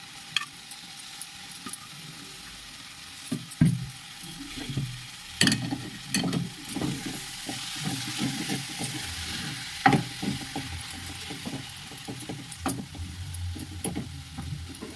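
Fenugreek leaves and potatoes sizzle in a pan while a spoon stirs them, giving steady frying hiss broken by repeated scraping and clattering strokes against the metal.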